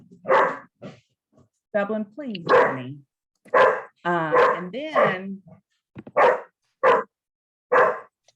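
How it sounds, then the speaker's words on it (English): A dog barks repeatedly in short, loud bursts indoors, some yips rising in pitch, close to the microphone while a person talks between the barks. "excuse me, dog, it's being obnoxious."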